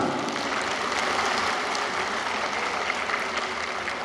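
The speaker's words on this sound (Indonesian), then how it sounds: "tepuk tangan bapak dari kelurahan" Applause from local government officials at a Makassar city coordination meeting, a steady dense wash of clapping that holds evenly for the whole stretch at moderate loudness, with no voices on top.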